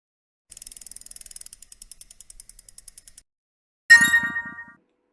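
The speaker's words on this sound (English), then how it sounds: "I rolled a 6 again" A die is rolled for a board game: a fast run of small rattling clicks slows and thins out, then after a pause a sharp, bright clatter rings and quickly dies away.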